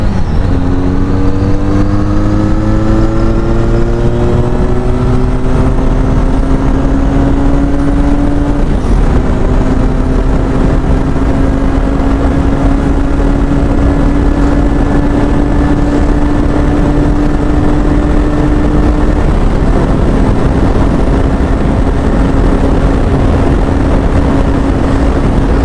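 A Benelli Leoncino 500 single-cylinder motorcycle fitted with a changed aftermarket exhaust drones loud and close, its engine note climbing steadily in pitch over a long continuous run with no talk.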